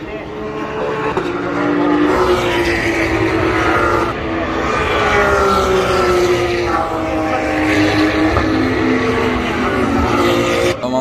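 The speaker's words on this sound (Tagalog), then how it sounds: "Ito na guys, yung Porsche Carrera race. Ayan na, formation lap na sila." Porsche Carrera race cars on a formation lap along the west straight of the Japanese Grand Prix circuit, their engines droning loudly as they pass with rising and falling pitch, and a voice talking over them.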